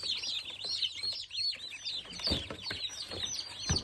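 Feed-store chicks in boxes peep constantly, a dense chorus of high, bright chirps close by, with occasional rustling and scrabbling underneath.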